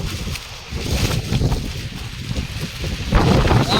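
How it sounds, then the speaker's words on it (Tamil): Strong cyclone wind buffeting the microphone at Pamban bridge, a continuous loud roaring rumble with gusty surges that grow stronger toward the end, with no voices. "செம்ம காற்று அடிச்சிருக்கு மக்களே"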